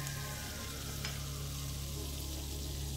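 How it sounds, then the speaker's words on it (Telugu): Onions and green chillies fry steadily in a pan, a continuous close sizzle with a low stove hum beneath and a brief stir scrape near the middle. "ఆనియన్స్, పచ్చిమిరపకాయలు ఈ రెండు కూడా బాగా దొరక వేయించుకుంటున్నాను"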